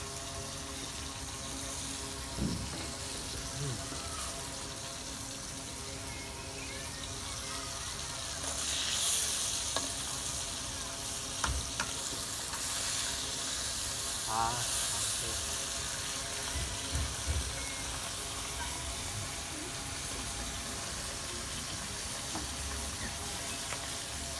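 Fish frying in a pan on an electric stove, a faint continuous sizzle with scattered clicks and a few louder bursts midway, alone and without talk.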